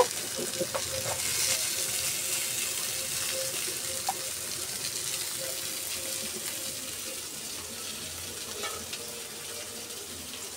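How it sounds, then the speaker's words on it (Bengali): Fish frying in a pan during home cooking, a steady broadband hiss of sizzling oil that holds for the whole stretch, with a few faint clinks and scrapes of utensils and no talk. "এদিকে মাছ ভাজি করা হচ্ছে"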